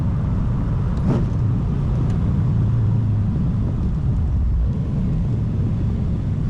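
A car engine rumbles steadily and loudly while driving, a low continuous drone that swells slightly as it revs, with no talking.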